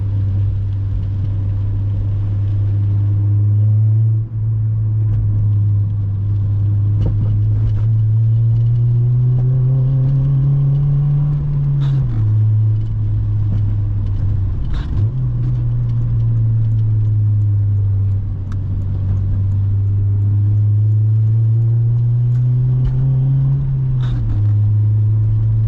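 Inside an 8th gen Honda Civic Si on a rainy drive, a steady engine drone holds throughout, rising and dipping in pitch as the car accelerates and eases off, with a soft road rumble underneath and no talking.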